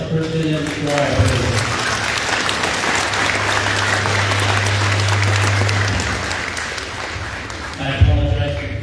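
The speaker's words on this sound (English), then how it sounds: "let's give another round of applause to Kristen and the choir" An audience at a school Veterans Day ceremony applauds a choir in a long, dense wash of clapping that swells and then fades, with a sustained low hum of sound-system feedback and voices at the start and end.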